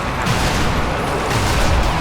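A grenade explosion in the zombie shooter game Sniper Elite Nazi Zombie Army 2 gives a loud, dense blast of broadband noise with a rumbling low end that stays heavy and sustained throughout.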